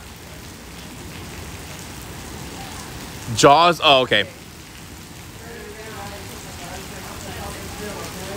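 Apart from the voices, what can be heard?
heavy rain in Seattle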